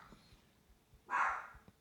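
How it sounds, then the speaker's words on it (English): A single sharp dog bark rings out about two-thirds of the way through, fairly close and brief, with only a quiet room hush before and after and no talking. "that's my dog"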